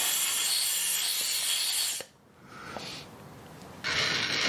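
Compressed air blasts drilling chips out of freshly drilled holes in metal on a dividing head spindle, a loud steady hiss for about two seconds, a short softer burst, then another strong blast starting near the end.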